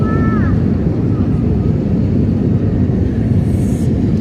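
Steady, loud airplane cabin roar during descent for landing, a broad low rumble that holds constant throughout with a faint tone briefly near the start.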